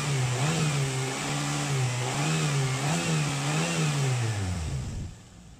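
A car engine revs up and holds at raised speed, its pitch wavering with throttle, during a radiator and engine compression leak check with coolant, then drops away sharply near the end; close and continuous.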